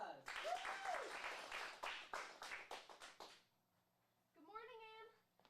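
An acting class of teens gives a brief round of applause, several people clapping close by for about three seconds, mixed with a short voice. It stops, and a voice speaks after it.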